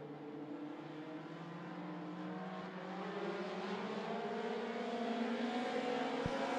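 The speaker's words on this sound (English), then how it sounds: "Right, off in racing with a four-cylinder heat race." Four-cylinder race cars roar around an oval track during a heat race at I-75 Raceway, a steady loud engine drone with layered revving pitches that swell slightly louder toward the end.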